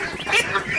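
Farm-raised ducks being fattened on feed give a brief burst of nasal quacks, a couple of close, loud calls in quick succession.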